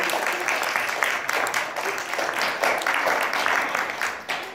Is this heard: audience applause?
yes